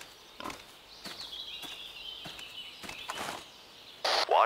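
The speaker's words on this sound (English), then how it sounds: "there's four wild boar right here" Four wild boars in the Cabela's Big Game Hunter: Pro Hunt video game, with several short grunts and snorts at close range among footstep-like thuds and a few brief sharper squeals.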